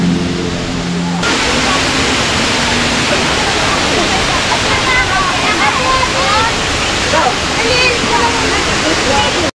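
Batlag Falls waterfall in Tanay, Rizal: a loud, steady rush of falling and splashing water fills the whole stretch, close by, with faint voices mixed into the roar.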